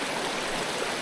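Big Rock Falls, a waterfall in Virginia, roars as a loud, close, continuous rush of falling and churning water that fills the whole moment without any voices.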